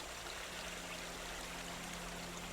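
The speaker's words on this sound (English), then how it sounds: "The swelling river surges through the forest." A swollen river surges through a forest, a steady broadband rush of flowing water with a low rumble, continuous and fairly loud, with no voices.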